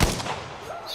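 A sniper rifle fires in Battlefield V multiplayer, a single sharp, loud report at the very start with a booming low tail fading over the next second.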